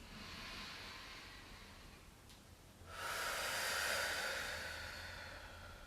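Slow, audible breathing during a yoga neck exercise: a soft, airy inhale, then a longer and louder hissing exhale, close and quiet with no speech.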